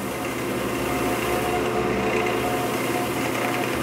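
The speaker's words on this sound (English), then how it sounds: "I'm running about 630 RPM right now. That's as slow as this lathe will go." A wood lathe runs at its slowest speed, about 630 RPM. It gives a steady, even motor hum with a faint tonal whine that holds unchanged throughout, with no talking.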